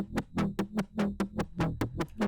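Synth patch built in Zebra from two oscillators plus noise, now run through a looping filter: a steady train of about ten rhythmic sweeping bursts, each opening bright and decaying, played alone with no talking.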